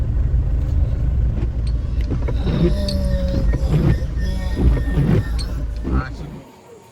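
Inside a moving vehicle on a journey to physiotherapy: a steady low road rumble and engine drone fills the cabin, with scattered knocks over it, then it drops away sharply near the end.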